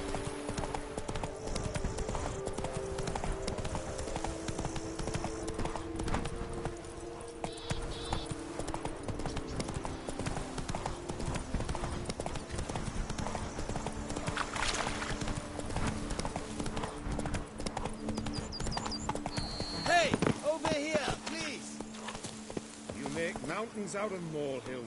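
In The Witcher 3: Blood and Wine, a horse gallops with continuous rhythmic clip-clop hoofbeats throughout, under game music and speaking voices, with a brief louder moment near the end.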